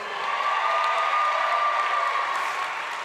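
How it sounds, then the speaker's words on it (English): Sustained, dense applause from a commencement audience at Lincoln University in Pennsylvania, steady and loud across the whole stretch, with a faint crowd murmur underneath and no talking. "Let's give them a big round of applause."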